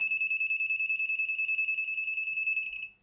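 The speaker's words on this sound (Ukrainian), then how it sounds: "І мультиметр пищить." A rapid, continuous high-pitched electronic beeping from a GVDA GD160A multimeter detecting 220-volt wires without contact, pulsing evenly for about three seconds before stopping abruptly.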